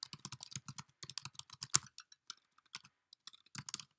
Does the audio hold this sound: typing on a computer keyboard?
yes